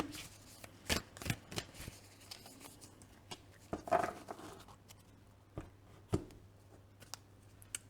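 Animal oracle cards are shuffled and drawn by hand, giving soft close riffling snaps and papery flicks in irregular bursts against a quiet room background.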